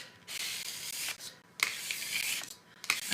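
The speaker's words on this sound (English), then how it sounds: "I'm going to try to scrape" A scraper rasps across sticky, floured almond kringle dough in several close, repeated strokes with brief gaps between them, dry and scratchy with no talk.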